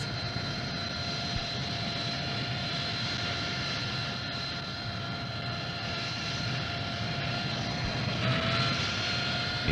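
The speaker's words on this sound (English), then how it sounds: "The aircraft accelerates forward and reaches normal wing-borne flight speed." Harrier jump jet accelerating forward into wing-borne flight, a loud continuous jet engine roar with steady whining tones that holds level and swells slightly near the end, no talk.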